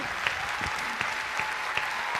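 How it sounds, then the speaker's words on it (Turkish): Studio audience applauds Armağan Çağlayan on the Popstar set, a steady wash of clapping with a few sharper individual claps popping out, sustained for a couple of seconds. "Bence bir büyük alkış daha Armağan Çağlayan'a."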